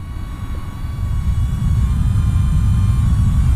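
A DJI Neo drone in flight, giving a steady low broadband whir with a faint high propeller tone, growing slightly louder and holding constant throughout, with no talking.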